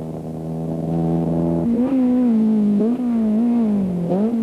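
A more powerful four-wheel-drive Toyota rally car at the 1990 Wesbank International Rally: a loud, close engine drone whose pitch steps up and then wavers as it accelerates and shifts, continuous throughout.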